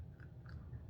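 A dog named Lady crunches a treat, giving a few soft, close bites and chews over low background rumble.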